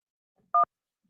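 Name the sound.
telephone dialing tones for an incoming call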